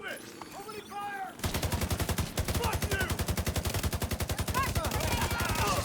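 Rapid, sustained automatic gunfire in a video game opens abruptly after a moment of ambient game sound and continues as a dense, steady stream of loud shots.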